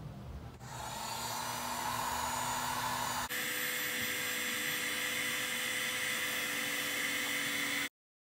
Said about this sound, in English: I noticed a little bit of a difference using the heat gun.